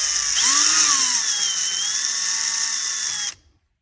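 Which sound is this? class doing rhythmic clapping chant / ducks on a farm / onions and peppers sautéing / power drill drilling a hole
power drill drilling a hole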